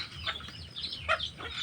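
Chickens clucking and calling at feeding time on a farm, several short bright bird calls overlapping in quick irregular bursts close by, with no talk.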